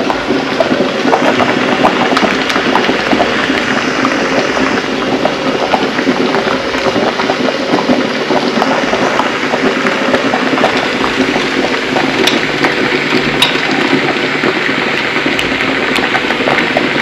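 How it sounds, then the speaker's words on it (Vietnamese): A covered pot of dried bamboo shoots boils on an electric stove, a loud, steady bubbling and hissing that goes on without pause, with no one talking. "Còn nồi này đang xeo, mình đậy bung vào cho sôi sôi xong, dần sủi cái là mình sẽ bỏ bung ra."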